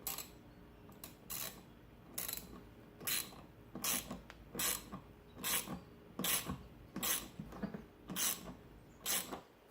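Quiet, rhythmic ratcheting and scraping clicks repeat at a steady pace as screws are driven by hand into a drag racing rim, a screwdriver turned in short strokes.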